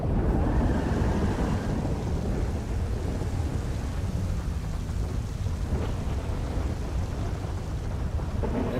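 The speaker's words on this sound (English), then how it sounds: "why is the thunder so loud?" Loud thunder rumbles through heavy rain and wind in the FiveM roleplay game based on GTA V, a dense, continuous roar that swells at the start and stays heavy throughout, with no one talking.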